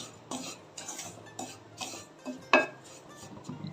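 Semolina roasting in ghee in a pan, stirred with a spoon: a steady series of light scraping strokes and utensil clinks, with one sharper knock partway through, fairly quiet, with no talking.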